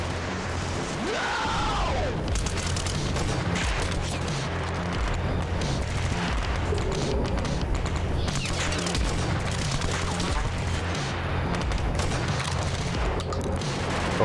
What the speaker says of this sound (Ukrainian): почув постріли, як близькі, так і віддалені